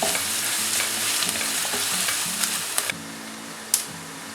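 Onions with ginger and garlic sautéing in a pan sizzle steadily and loudly while a spoon scrapes and stirs in short bursts, with a few sharp clicks near the end.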